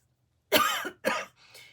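Two sharp coughs close to the microphone from someone under the weather, followed by a softer trailing cough, all alone in a quiet room.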